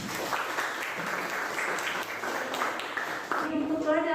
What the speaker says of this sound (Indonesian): Jadi berikan aplaus untuk kalian semua